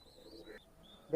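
A pair of Pakistani pigeons coos softly in a short, quiet burst, with a faint high call above and a sudden louder noise at the end.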